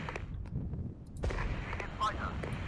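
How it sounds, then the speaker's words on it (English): Artillery shelling in the Regiments war game, with repeated distant booms and thuds rumbling under a voice. "Artillery, please continue to shell the area."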